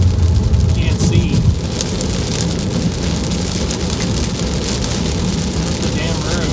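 Rain splatters steadily on a car in motion at night, a dense continuous wash over low road rumble, with a louder burst early on.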